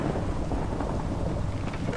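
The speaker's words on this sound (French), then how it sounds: "On a aussi beaucoup d'orage dehors, c'est pas très cool." A Minecraft thunderstorm rumbles outdoors, with a steady, dense roar of thunder and rain that stays loud and continuous throughout, and no voices.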